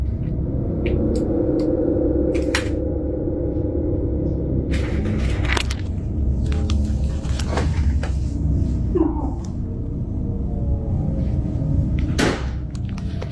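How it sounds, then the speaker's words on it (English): Doors in a house bang and thud shut on their own, with several sharp knocks and slams scattered over a steady low rumbling background. "This thing's always closing doors."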